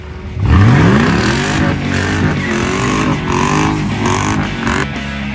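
Mercedes CLK55 AMG V8 engine starting with a rising rev, then settling into a loud, steady idle with rough rumbling pulses, close by and heard on its own without any talk.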